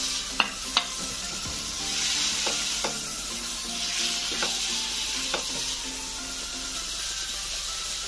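Fried cauliflower and capsicum cooking down with spices in a pan for a paneer curry, a steady close hiss of sizzling broken by several sharp scrapes and clicks of a spoon stirring against the pan.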